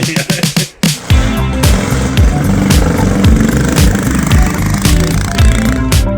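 A cheap $200 mini chopper motorcycle engine, with fuel cutting out beyond half throttle, runs close and loud after a few sharp clicks, its revs surging and dropping in uneven, sputtering bursts.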